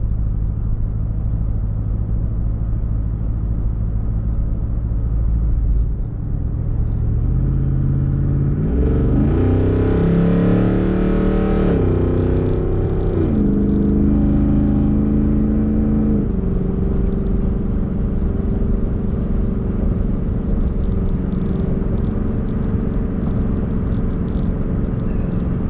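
A Jeep Wrangler Rubicon 392 fitted with an H-pipe exhaust cruises on the highway slightly uphill under light load, giving a steady deep rumble that swells into a louder revving surge partway through and then settles back into a constant drone.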